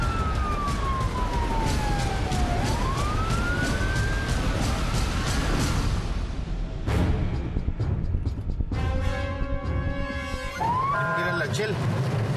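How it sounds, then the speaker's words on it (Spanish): Rising and falling police siren wails over busy street noise, loud and continuous, later shifting to a steadier electronic tone with traffic rumble. "Ya se escuchan sirenas a lo lejos"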